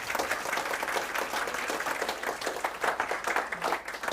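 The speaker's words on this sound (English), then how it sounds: "let's give him another round of applause for fantastic talk" An audience applauds after a talk on Celtic constellations, a continuous close crowd of clapping hands at moderate loudness with slight swells, alone without speech.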